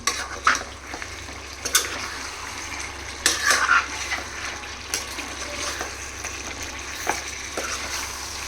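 A spoon scrapes and stirs through a sizzling chicken curry in a pan, with intermittent clanks against the metal over a soft continuous frying hiss.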